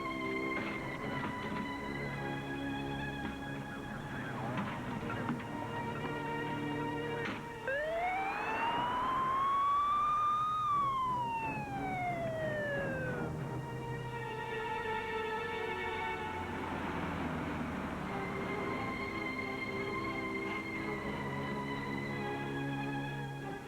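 An ambulance siren wails steadily with a rising and falling tone, loud and sustained throughout, one sweeping whoop standing out near the middle over the continuous cycling wail.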